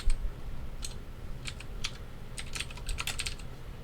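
Quick keystrokes on a computer keyboard during a programming lecture, sparse clicks at first and then a denser burst of typing, close and clear over a low room hum, with no one talking.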